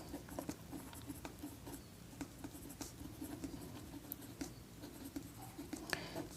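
Someone writes on a board during a maths lesson, producing faint, close, intermittent tapping and scratching strokes in quick irregular bursts, with no voice over them.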